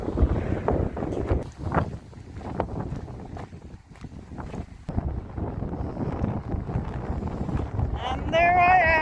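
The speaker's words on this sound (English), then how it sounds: "It's quite windy here" Strong wind buffets the microphone outdoors near a salt lake in Larnaca, Cyprus, a loud continuous rumbling roar with gusty swells and a faint voice underneath.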